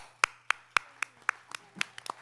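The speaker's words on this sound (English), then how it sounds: "I think she deserves a round of applause." Meeting audience at a delegate assembly clapping in sparse, steady, rhythmic claps, a few distinct hand claps about four per second in a quiet room rather than a full crowd.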